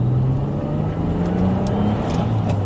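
A 2010 Vauxhall Insignia VXR with a 2.8 litre V6 24-valve turbo engine making 321 bhp, driving with a steady low drone that rises slightly in pitch, together with road and wind noise.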